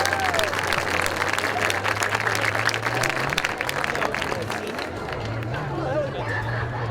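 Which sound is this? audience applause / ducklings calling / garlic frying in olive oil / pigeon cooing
audience applause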